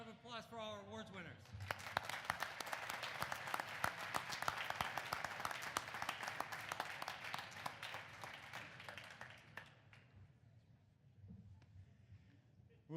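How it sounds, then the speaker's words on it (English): Applause for award winners fills a gala hall at the Heinz Field celebration, a dense stretch of many hands clapping that swells, holds, then fades, with voices speaking before and after. "How about one more round of applause for our awards winners?"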